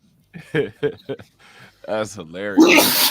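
A person talks in short phrases, and then a single sharp, breathy sneeze bursts out loudly at the end.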